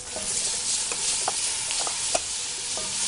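Peppers fry and get stirred in hot oil for Yemeni chicken rice, a close hissing sizzle broken by several sharp scraping stirs, no voices.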